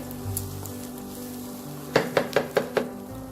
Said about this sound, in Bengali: দেখুন চাল আর ডালটা আমার খুব ভালো করে ভাজা হয়ে গেছে। এটা একটা চিটচিটে আওয়াজ হচ্ছে।